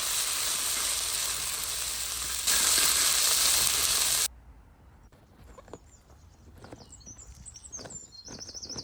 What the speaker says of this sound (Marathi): आता भाजी घालून बरें तळसून घेवप या फोडणे वांगडा